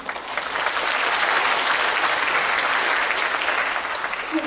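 Dense, sustained applause from a concert audience at a performance fills the whole stretch, steady and loud with no talk over it.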